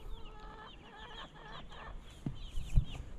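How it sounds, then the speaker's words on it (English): Egg-laying hens on a small one-acre homestead cluck and murmur nearby in a quiet run, a few soft calls repeating, with a couple of brief louder knocks near the end. "We have added 6 egg chickens this year to our existing 5."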